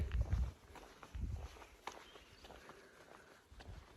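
Footsteps crunch along at a steady walking pace, close by, in an otherwise quiet outdoor setting.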